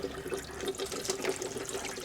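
Water rushes steadily out of a tankless water heater's heat exchanger during a flush, a continuous close splashing hiss like a running tap, with no talk over it.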